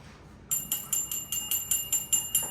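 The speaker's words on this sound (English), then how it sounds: "Ring the bell." A small bell rings about ten times in quick, even succession, bright and clear over a quiet background.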